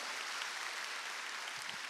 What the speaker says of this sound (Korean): 박수로 한번 축하해 주세요.